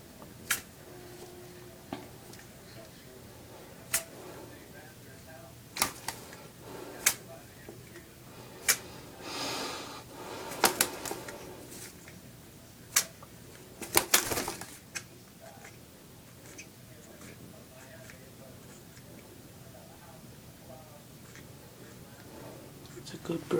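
A pet bird bathing in a quiet room makes faint, scattered splashes and flutters, with two fuller bursts of splashing and occasional sharp little clicks in between.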